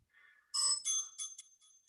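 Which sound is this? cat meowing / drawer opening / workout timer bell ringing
workout timer bell ringing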